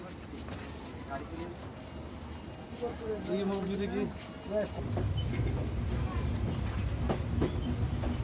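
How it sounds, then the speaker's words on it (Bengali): A train rumbles and rattles as it pulls away from Poradah railway station, Bangladesh, on a hot sunny day, the low clatter growing steadier and louder, with faint bird calls in the background. "আমাদের ট্রেনটি এখন পোড়াদহ রেল স্টেশন ছেড়ে দিয়ে যাচ্ছে"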